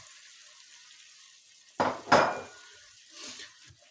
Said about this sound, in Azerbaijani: Üzərinə ətimizi əlavə edirik. Beləcə qarışdırırıq.